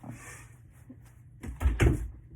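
A closet door swings shut indoors with a faint creak and then two close, solid thumps as it closes, alone with no talking.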